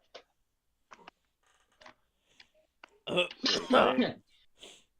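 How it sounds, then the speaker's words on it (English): A few faint, scattered clicks and taps, then a short burst of close coughing and throat clearing, followed by quiet. "I think I just heard one of you cough as well."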